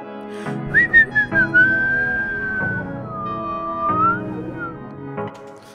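A person whistles a short sliding melody close up, with a soft musical backing underneath.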